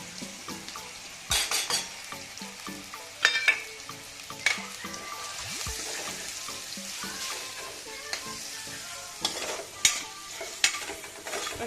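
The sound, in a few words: spinach and spices frying on low flame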